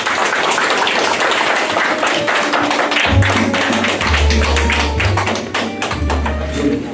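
A crowd applauds at a memorial stone unveiling ceremony for the house site of Yi Jun, a loud, dense and steady wash of clapping, with a low droning tone coming in partway through.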